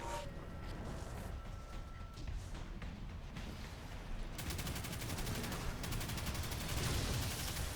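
Video game gunfire during a shooting sequence, a dense continuous crackle of rapid shots that grows louder and harsher in the second half, with no voices over it.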